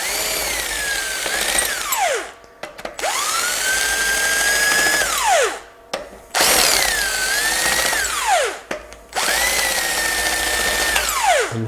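A power drill-driver removes cylinder head bolts during a head gasket replacement, giving four loud whining bursts that rise and fall in pitch as each bolt spins, with short quiet gaps between them.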